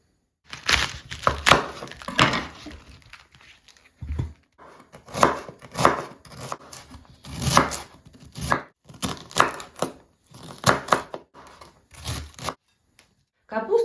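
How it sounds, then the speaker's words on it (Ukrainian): A knife chops cabbage rapidly on a board in uneven bursts of crisp, close thuds with short pauses, a voice speaking now and then over the cutting. "Далі будемо нарізати капусту."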